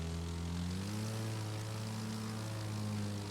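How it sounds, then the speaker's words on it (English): A propeller airplane in The Crew 2 video game drones steadily, its engine note dipping in pitch as it slows, a continuous close hum with no voices. "Okay, plane is slowing down a bit there."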